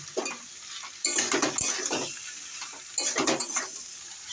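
Taro sautéing in a pan: two bursts of sizzling and scraping as the pieces are stirred, with short clinks of a utensil against the pan and quieter frying between, close by, with no voices.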